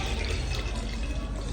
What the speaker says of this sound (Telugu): ముందుగా చింతపండు పులుసు అయితే పోసుకుందాం ఇందులో